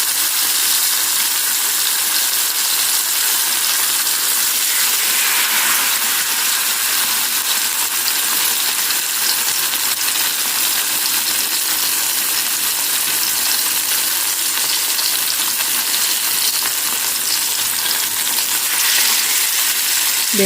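Fish pieces fry one by one in hot oil, a steady, unbroken bright hiss of sizzling that holds at an even level throughout without talk.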